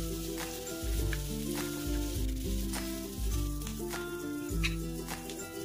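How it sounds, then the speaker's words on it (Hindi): Chopped onions frying in a pan while making semiya upma, giving a steady close sizzle that runs throughout, with music playing in the background. "तापरे काटिक रखी पियाज को ऐड कर देबा। पियाज को गोटे मिनिट पर्यंत भाजी नबा।"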